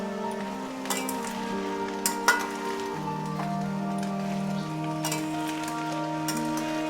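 Tricolour fried rice being stirred and mixed in a hot pan, a steady low sizzle with a few scattered clinks and scrapes of the spatula against the metal, close and continuous without any talking.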